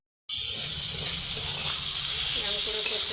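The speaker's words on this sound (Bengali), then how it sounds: "ভালো করে কষে নেবো, সব মশলা দিয়ে দিলাম অল্প অল্প করে।" Spices and salt sauté in a pan with potatoes, a bright continuous sizzling hiss that begins abruptly after a moment of silence and stays steady and close, with no talking.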